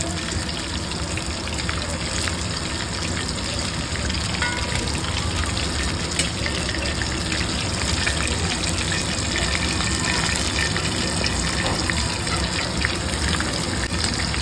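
Cheese chicken balls frying in hot oil give off a dense, steady sizzle that holds at an even, fairly loud level throughout, with no talking.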